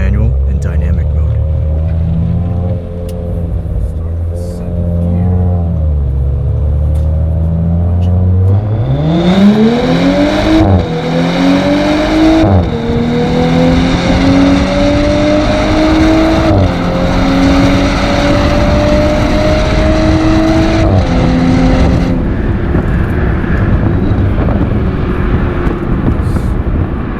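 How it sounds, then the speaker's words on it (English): Audi S5 with 354 hp, run in full manual dynamic mode, accelerating hard: engine note climbs steadily through the revs, drops briefly at each gear change, then rises again. The sound is close and loud, and a voice talks over it. "this first run will be in full manual and dynamic mode"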